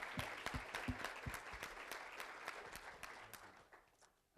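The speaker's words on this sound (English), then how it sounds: "I just want to give them the applause I think they deserve" Applause at an advocacy and organizing gathering on campaigns for expanded resources: a room of hands clapping steadily with sharp individual claps, thinning out and fading toward the end.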